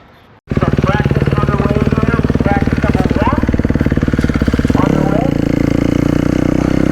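Dirt bike engines on a motocross track during race-day practice, a loud sustained buzzing roar that starts abruptly and holds steady with rising and falling revs, close, while a voice talks over it.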